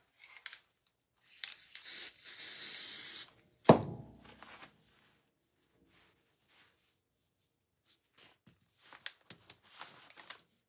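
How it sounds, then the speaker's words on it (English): Elmer's spray adhesive hisses from an aerosol can in one steady burst of about two seconds, followed by a thump and a few quieter rubbing and handling noises. "I'm just using Elmer spray adhesive."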